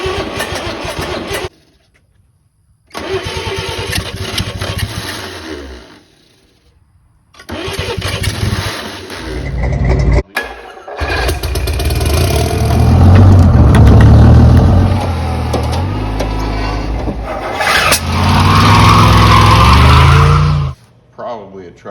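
A long-dead 80-year-old Chevy 216 six-cylinder, probably a truck motor, cranks and tries to start in several loud bursts separated by silences, each rough and close up, with a person talking at points between attempts.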